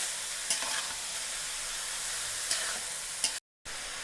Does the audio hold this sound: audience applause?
no